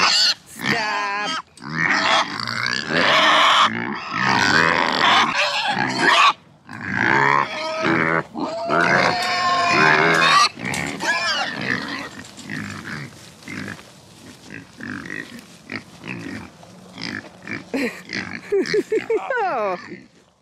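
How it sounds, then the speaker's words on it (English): Pigs on a farm grunt, oink and squeal close by in loud irregular bursts, with a shrill squeal near the end, while people talk among them. "Those pigs are gonna see us any moment."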